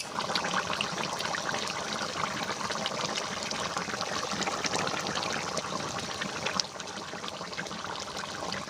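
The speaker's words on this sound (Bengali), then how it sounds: "জল দিয়ে দেব।" Water is poured into a cooking pot of green cauliflower and egg curry, a continuous close splashing gush that runs steadily for several seconds before easing slightly near the end.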